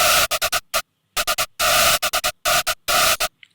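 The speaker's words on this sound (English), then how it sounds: "I'm going to throw some distortion on it right here. And this is a soft clipper." Gritty Serum synth run through a soft clipper distortion, adding noisy harmonics to the top end; loud, dense chopped stabs in a stuttering rhythm, playing alone.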